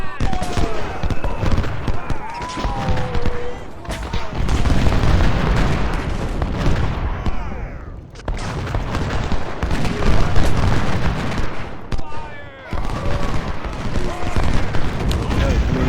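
Battlefield gunfire in the Civil War strategy game Ultimate General: Civil War, with dense crackling musket volleys and booming bursts filling the mix, and someone talking over the continuous din.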